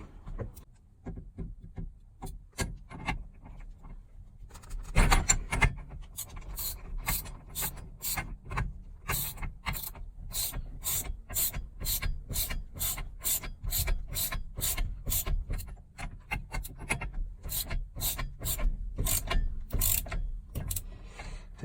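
A ratchet wrench loosening the steering wheel nut on a 1967 Mercury Cougar during a Sparco L575 wheel installation, with repeated close, crisp ratcheting clicks in uneven bursts and no talk.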